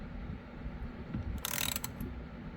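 A ratchet slowly loosening a 13mm bolt on a C5 Corvette steering wheel, with one brief burst of rapid clicking midway through a quiet, faintly windy background.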